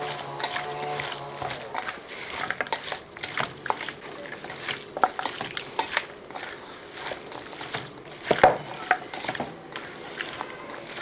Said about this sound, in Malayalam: ഇനി നമുക്കിതെല്ലാം കൂടെ നല്ലപോലെ ഒന്ന് മിക്സ് ചെയ്തെടുക്കണം കൈ കൊണ്ട് തന്നെ ഒന്ന് ഞെരടി പിടിപ്പിക്കണം